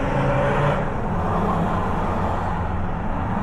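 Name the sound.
petrol cars racing past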